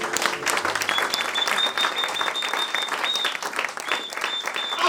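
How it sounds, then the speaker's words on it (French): A church congregation bursts into sustained, dense applause with cheering, close and loud throughout, with a high whistle or shout ringing through the clapping. "Est-ce qu'on peut acclamer le Seigneur?"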